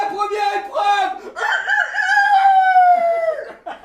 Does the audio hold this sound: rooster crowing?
yes